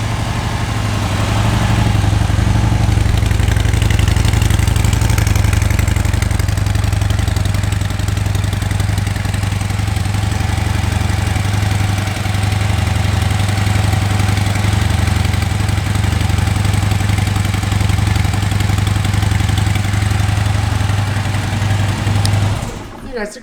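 A Harley-Davidson Street Bob motorcycle engine idles with a loud, steady low rumble close to the microphone, holding constant for over twenty seconds before cutting off abruptly at the end.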